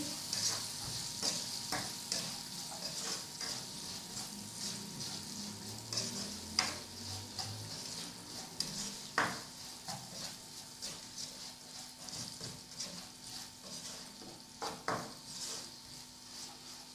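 Salted boiled rice is stirred and mixed in a pot for a kabuli pulao, with a soft continuous sizzle, scraping strokes and occasional sharp clinks of a spoon against metal, close and fairly quiet with no talk.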